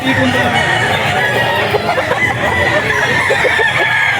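Roosters crow and chickens cluck loudly amid constant bird noise at a pet market, with some faint voices in the mix.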